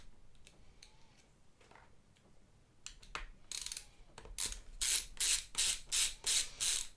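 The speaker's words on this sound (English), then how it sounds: "let's get these other 5 screws off." A ratcheting screwdriver backs screws out of a graphics card cooler: soft scattered clicks at first, then a run of loud, evenly spaced ratchet bursts, close and alone with no talking.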